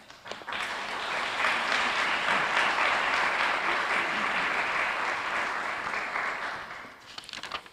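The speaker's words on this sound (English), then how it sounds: "Welcome, County Executive." Ceremony audience applauds steadily for about seven seconds, full and even clapping that rises quickly, holds, and tapers off near the end, with no talk over it.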